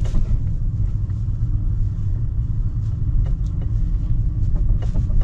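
A BMW 530i idles roughly while the car shakes, a loud, steady, deep rumble with an uneven low throb that carries on without a break and has no talking over it.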